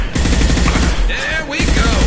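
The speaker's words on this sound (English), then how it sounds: "Firing a high-impact shot!" Rapid automatic gunfire in the Mass Effect 2 video game, a loud dense burst of shots with a short pause in the middle, mixed with game effects and brief voices.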